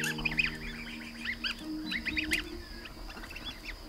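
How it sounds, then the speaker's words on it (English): A flock of geese honks and calls in a busy overlapping chorus of nasal cries, moderately close, with a steady low hum underneath. "Avid bird enthusiast Christian Moulec is about to raise his very own flock of geese."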